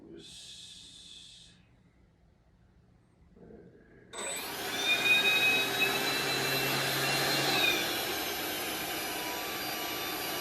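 A small jet engine spools up with a rising whine, then ignites into a loud, steady roar with a high whistling tone, close by and without talk.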